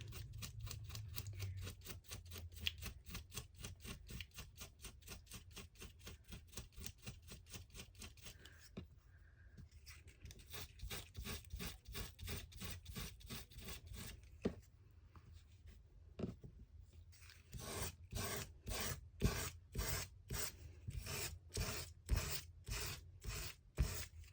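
Sandpaper rubs along the edges of moth-eaten lace in quick, rhythmic strokes, a close, dry scratching that pauses briefly and then resumes faster.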